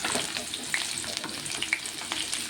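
Chopped shallots frying in a pan, a soft close sizzle broken by light stirring scrapes and small pops that come and go, fairly quiet and with no voice over it.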